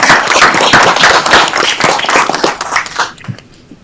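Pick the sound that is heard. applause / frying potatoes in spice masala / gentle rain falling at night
applause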